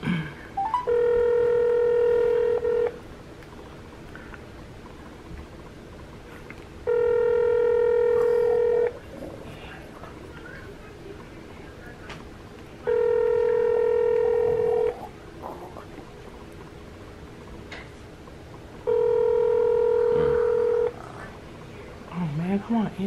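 A phone call to Taco Bell rings out through a loud phone speaker. Four long ringback tones come at steady intervals of about six seconds, with faint voices between them.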